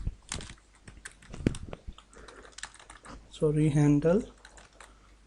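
Code is typed on a computer keyboard while building a Unity airplane simulator game. Quick, soft, irregular key clicks come close up, and someone speaks briefly between them.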